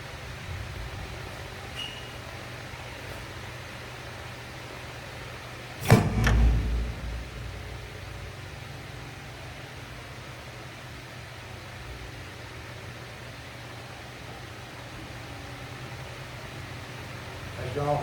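A nitrous bottle valve on a drag car is cracked open, releasing a single short, sharp hiss of gas around the middle, against otherwise quiet background noise.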